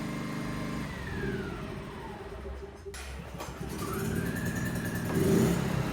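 A Philking 2300i inverter generator, rated 2,000 watts with 2,300 watts maximum, runs at a steady close-up hum that swells slightly toward the end, with no talking.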